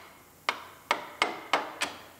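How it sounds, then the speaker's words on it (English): Five sharp hammer strikes on metal while rebuilding a Lincoln MKT, spaced unevenly over a couple of seconds, each with a short ringing decay against a quiet background. "Some more hammering"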